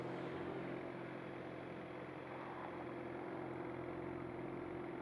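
Honda CBR motorcycle engine idling steadily, a continuous low droning hum with an even mid-range rumble, constant and unchanging throughout, with no talk over it.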